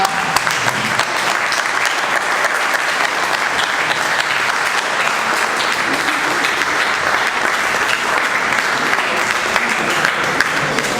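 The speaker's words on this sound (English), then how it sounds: "So I would like you all to give him a standing applause." Long, even standing ovation from an audience at a Tehreek Kashmir gathering at the Danish parliament, a thick wash of many hands clapping at steady loudness for about eleven seconds with no talk.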